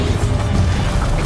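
The Bombarda blasting spell goes off in Hogwarts Legacy, a loud, close, crunching burst with a rumbling, smashing low end lasting just over a second.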